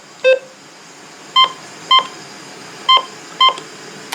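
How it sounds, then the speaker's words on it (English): Five short electronic beeps from the buttons of a First Alert WX150 weather radio, each a clear two-tone chirp, sound one at a time with irregular pauses between them, close and loud against near silence. "It has some pretty cool button beeps."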